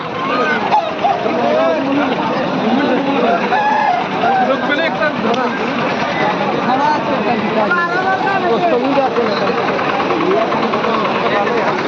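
A dense, noisy crowd of chickens clucks and crows continuously alongside bustling voices and a low engine hum at the busy Teko poultry market.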